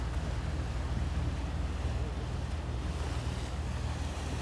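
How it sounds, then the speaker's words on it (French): Continuous wash of water and wind in the harbour at Audierne, Brittany, as boats pass and leave wakes: steady low rumble with no distinct splashes and no talking. "Du coup, ça fait des vagues pour les autres."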